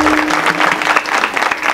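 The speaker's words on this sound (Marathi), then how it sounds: "इथं उपस्थित सर्व सहकलाकारांसाठी एकदा जोरदार टाळ्या वाजवा" Audience at a kirtan performance clapping loudly and steadily, a dense close wash of applause with no pause.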